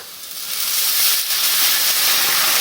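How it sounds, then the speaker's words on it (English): Vegetable stock poured into a hot pan for refried black beans, a loud, bright hiss and sizzle that swells after a moment and then holds steady. "now into this front pan I'm going to add just a little bit of veg stock"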